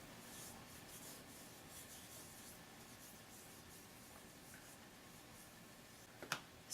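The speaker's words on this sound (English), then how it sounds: "Just rub it on your fingers and start applying it to your skin." Fingertips rubbing makeup primer onto facial skin make a soft, steady close-up rustle throughout, with no voices, then end in a couple of sharper taps.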